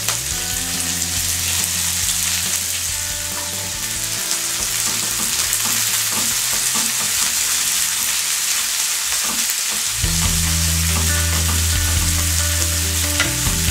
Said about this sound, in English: take a kadai, add oil, add cumin seeds and mustard seeds. Then add cabbage.